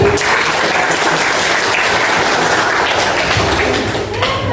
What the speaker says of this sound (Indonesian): Aplaus untuk kita semuanya.